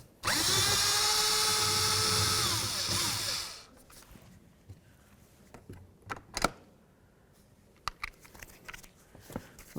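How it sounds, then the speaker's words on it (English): Power drill with a T27 Torx bit backing out the door latch bolts on a 2007-14 Ford Edge, one loud steady whir for about three seconds that then winds down, followed by quiet clicks and handling knocks. "So next I'm going to use a T27 or a Torx bit number 27. I'm going to remove these bolts."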